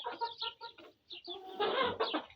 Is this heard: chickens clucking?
yes